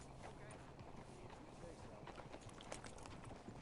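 Horses' hooves clopping on the ground as riders dismount in Red Dead Redemption 2, steady soft thuds over a dense outdoor ambience, with a voice talking throughout.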